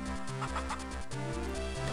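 Chickens cluck in short repeated bursts in The Legend of Zelda: The Minish Cap, chiptune-like game clucks layered over steady looping background music, faint overall.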